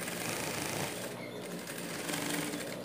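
A sewing machine runs continuously, stitching a dog bandana with a steady, rapid mechanical whir at moderate loudness and no talk.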